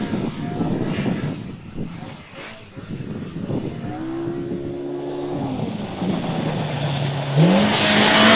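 A Polaris RZR Pro R or Can-Am Maverick R side-by-side UTV engine with CVT transmission, no turbo and a giant exhaust runs steadily and loud, pitch climbing and revving up toward the end, with a droning hum throughout.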